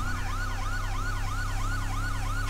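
An alternate police siren tone on a Hummer H2 in GTA V yelps in rapid, regular up-and-down sweeps, about two cycles per second, loud and steady over a low engine hum.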